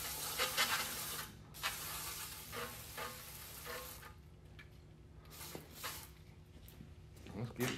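CRC brake cleaner hisses in bursts as it is sprayed onto a wireless work light during a torture test, the short sprays starting and stopping close by amid faint handling noise.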